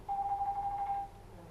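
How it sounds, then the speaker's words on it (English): A mobile phone rings with a single steady electronic tone that holds for about a second and then stops, moderately loud against a quiet room background. "Oh, it's my phone going off."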